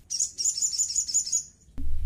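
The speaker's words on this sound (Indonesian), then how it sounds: "Contohnya seperti burung sogon saya ini." A caged sogon songbird gives a rapid, bright run of high chirps lasting over a second, fairly close and alone, then breaks off into a low thump.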